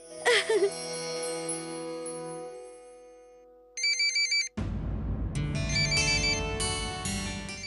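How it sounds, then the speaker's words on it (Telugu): A mobile phone ringtone in a domestic TV-serial scene plays as two short bursts of electronic tones, followed after a brief gap by a louder, fuller musical ring pattern that continues to the end. "నా ఫోన్ రింగ్ అవుతుంది."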